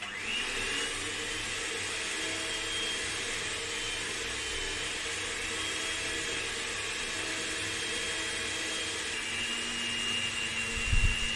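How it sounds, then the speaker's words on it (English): An electric mixer with a dough hook kneads egg-enriched dough for Hong Kong-style sausage rolls, giving a steady, even motor whir that holds at one level throughout, with a brief low thump near the end. "Knead the dough with an electric mixer,"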